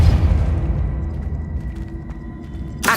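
In Hogwarts Legacy, a cast Depulso force-push spell gives a deep rumbling boom that fades slowly under faint tonal hums, ending in a sharp bright burst.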